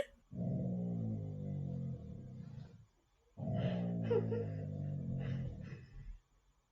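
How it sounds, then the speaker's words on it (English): A dog barking loudly nearby in two long, sustained bursts of rough, growling barks separated by a short pause. "Is that the dog? Oh my god, he's so loud."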